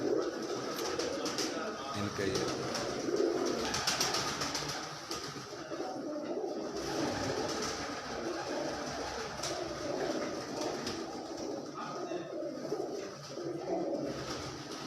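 White pigeons coo softly and repeatedly on a rooftop, their low murmurs mixed with someone talking and general background noise.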